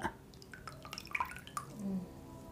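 Idli rava being washed by hand in a bowl of water, with soft drips, splashes and squishy swishing close up, fairly quiet and without talk.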